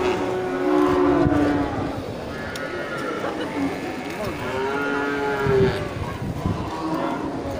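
Aceh cattle, including a heifer, moo at an outdoor livestock market, with long, loud, drawn-out lowing calls repeating over a busy background of crowd noise and talk.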